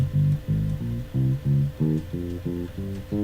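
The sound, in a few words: bass guitar playing minor scale pattern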